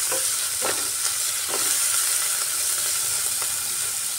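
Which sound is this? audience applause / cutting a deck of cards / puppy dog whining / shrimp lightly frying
shrimp lightly frying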